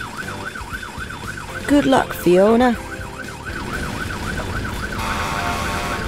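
Cartoon fire engine siren wailing in a steady, regular rise-and-fall pattern throughout, fairly loud and close, with a short burst of character speech midway over it.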